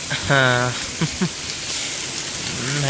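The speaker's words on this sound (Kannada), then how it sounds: "ಎಲ್ಲ ಎಷ್ಟು ಮಳೆ ಬರತೈತಿ" Heavy rain pours down steadily in a dense, hissing patter on surfaces nearby, while people speak briefly over it.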